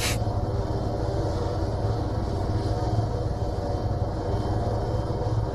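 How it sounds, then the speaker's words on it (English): A helicopter flies in a video game, giving a steady loud engine drone and rotor roar that holds continuously after a sharp onset, with no talk. "There's a helicopter just flying into space with people bailing out of it."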